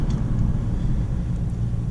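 Ford AU Falcon with a 4.0L engine and five-speed manual driving, heard from inside the cabin as a loud, steady low engine drone and road rumble, with no voices.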